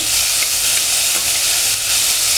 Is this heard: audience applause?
no